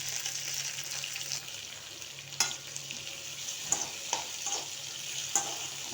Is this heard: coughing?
no